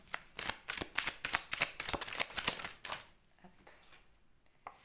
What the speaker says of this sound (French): Je vais prendre une dernière carte, voyons.